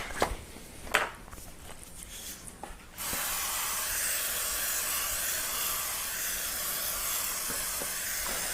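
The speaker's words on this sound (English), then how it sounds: "I'm going to spray the basket with olive oil." After a few quiet seconds with small clicks, a close, continuous hissing spray of olive oil onto a bread basket starts and holds steady to the end.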